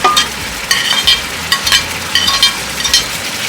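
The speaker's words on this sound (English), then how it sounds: "now that the broth is a little thicker, I'm going to put the carrots and potatoes" Carrots and potatoes dropped and stirred into a thickened, simmering pork afritada broth, with soft bubbling sizzle and repeated wet clinks and scrapes of a spoon against the pot.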